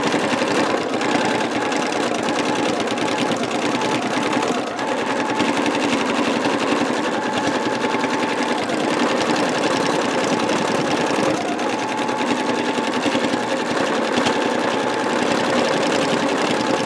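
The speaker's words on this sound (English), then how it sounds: "let me do some gray straight stitch, go back to a straight stitch" A sewing machine runs steadily through straight stitching for thread painting, a continuous, even mechanical whir with no pauses and no voices.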